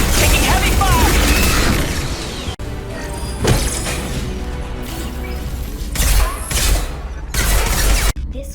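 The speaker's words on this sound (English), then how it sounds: "Taking heavy fire!" Heavy gunfire rattles through a Mass Effect battle, dense loud bursts and booms crowding closely together, with brief breaks between volleys and voices in the mix.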